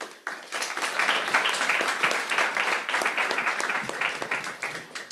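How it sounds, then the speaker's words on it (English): A conference audience claps in sustained applause after a talk on collection management systems, a dense, steady patter of many hands, moderately close, without speech over it. "let's give another round of applause"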